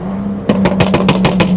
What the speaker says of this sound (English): I don't know how loud like my exhaust actually is